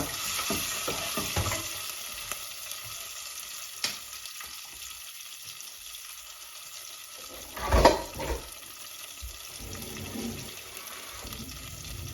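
Curry base ingredients, including ginger, sizzle steadily in a hot pan while a utensil scrapes and stirs, with a few clanks and a louder scraping burst partway through.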